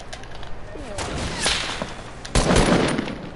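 Video game gunfire: a couple of sharp, loud bursts of shots stand out over a busy, noisy backdrop, with a faint voice in the mix.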